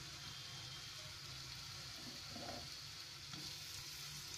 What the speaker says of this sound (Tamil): பூண்டு நல்லா வதக்கி விட்டுக்கலாம்